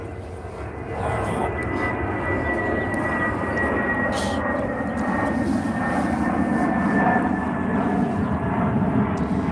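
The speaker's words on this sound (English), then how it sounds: "I'm gonna let the plane pass." Airplane flying overhead, a steady broad engine roar that holds loud and unbroken for about ten seconds with no voices over it.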